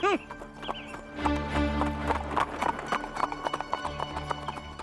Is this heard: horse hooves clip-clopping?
yes